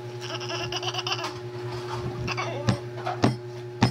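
Bleating from a sheep, or a toy imitating one, repeated several times over a steady tonal hum, with sharp bursts toward the end and no speech.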